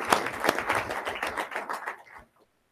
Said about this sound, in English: I would like just to have a round of applause for all the hard work that everybody has done